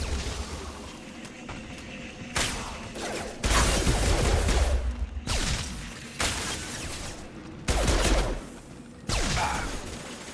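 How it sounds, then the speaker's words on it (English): Heavy gunfire in the Mass Effect 2 video game comes in several loud, dense bursts of sustained shooting, each lasting about a second or more, separated by quieter gaps of background combat noise. "Heavy fire!"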